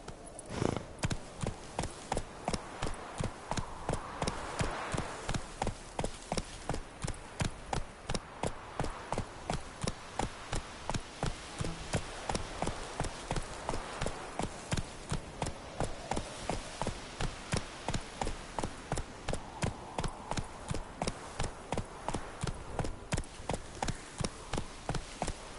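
Roach, the horse in The Witcher 3, gallops as a steady, rapid clip-clop of hooves that runs evenly throughout, close and prominent over a soft ambient bed.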